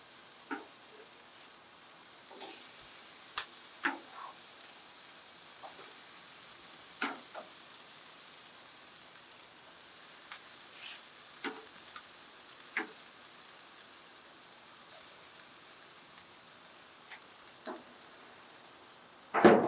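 Barbecue-sauced ribs sizzle quietly on the heat, a faint steady hiss dotted with small pops and crackles spaced unevenly throughout.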